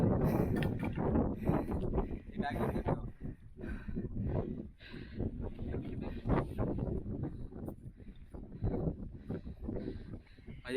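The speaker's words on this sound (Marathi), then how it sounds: "केस उडताना बघत असं वारा किती आहे हो," Strong wind on the Brahmagiri mountain trek buffets the microphone in heavy, uneven gusts that rise and fall, a deep roaring rumble dominating throughout, with faint voices now and then.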